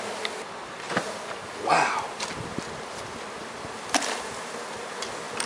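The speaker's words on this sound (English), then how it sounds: "Yeah, that's a ton of bees." A big swarm of honey bees removed from a ceiling in Fishers, Indiana, and dumped into a hive gives a dense, steady buzzing close by, with a few light knocks and rustles. A voice briefly exclaims partway through.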